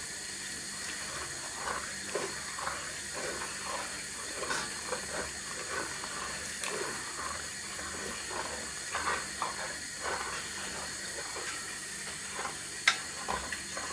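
Metal spoon scraping stuck bits from the bottom of a casserole pan of beef and ale, a steady run of short rasping strokes over a constant sizzling hiss of simmering liquid.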